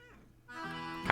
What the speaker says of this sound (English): Cat's talking to me.